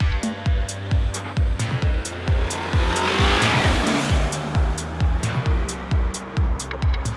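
A car with a front-biased all-wheel-drive system labours up steep Gold Mine Hill, its engine pulsing in rapid rhythmic bursts as the wheels slip and scrabble, with tire squeal rising in the middle, close and loud, no talking.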